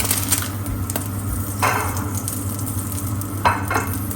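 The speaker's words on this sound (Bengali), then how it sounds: "এখানে ফ্রাই করে দেবো" Goat meat frying in a pan, a steady close sizzle running throughout with a few scraping stirs and soft utensil knocks on top, no talking.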